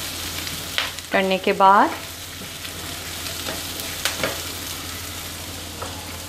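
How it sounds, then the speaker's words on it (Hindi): Chicken frying in a pan for a few seconds, a steady broadband sizzle under brief speech and a few stirring knocks, with the sizzling continuing at a moderate, even level throughout. "फ्यू सेकंड के लिए यूँ फ्राई करेंगे, फ्यू सेकंड के लिए बस।"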